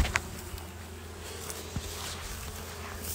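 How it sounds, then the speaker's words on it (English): Honey bees buzz around a beekeeper's apiary, a steady close insect drone with a few brief knocks and taps, and no voices. "I'm going to shake these bees off right here."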